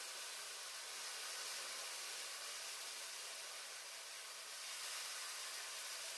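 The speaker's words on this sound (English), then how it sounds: "And here nice sizzle in the pan." Chicken pieces sizzling in a hot pan, a steady close hiss of frying that runs evenly throughout with no talking over it.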